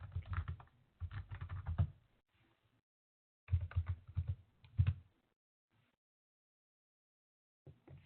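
A Linux command being typed on a computer keyboard, close and quiet, in several short bursts of rapid key clicks separated by pauses.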